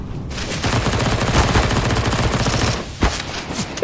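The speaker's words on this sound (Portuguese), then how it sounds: "O cara tá atirando igual um louco aí" Rapid gunfire in Counter-Strike: Global Offensive, a loud dense burst of automatic shots sustained for several seconds, then a brief pause before another sharp shot, with no talking.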